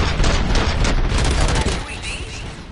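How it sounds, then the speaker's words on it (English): Dense gunfire from the Robocop Rogue City video game: rapid overlapping shots and booms crackle loudly throughout, easing slightly toward the end, mixed with game sounds. "Gunshots? What's going on?"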